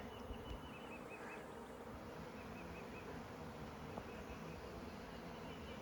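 A honeybee swarm pours out of a hive into the air, a faint, continuous, even buzz of many bees hanging in the open.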